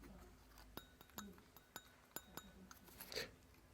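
Light glassy clinks and taps as small German or Bohemian soda glasses are handled, a scattered series of close, faint chinks with a slightly louder ring near the end.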